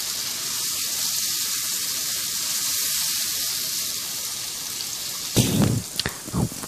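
Ground spices with salt sauté in oil for an egg curry, a loud, steady, close sizzle that runs on alone before a few sharper stirring scrapes near the end.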